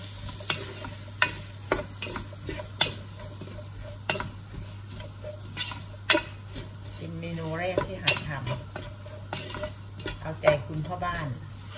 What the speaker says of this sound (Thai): ผัดให้หอมเลยค่ะหัวหอมนะคะ